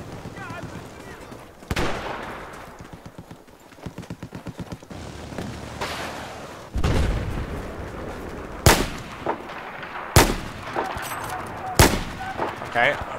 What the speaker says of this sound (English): I was shooting the guy in the back three times